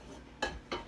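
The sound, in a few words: pan being picked up and handled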